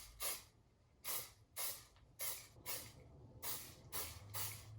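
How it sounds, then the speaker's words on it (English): Joico holding hairspray sprayed onto a beard, seven short close hissing bursts in a steady rhythm, each about half a second, separated by brief pauses with no talk. "Now you just want to take some hairspray, any type of holding spray."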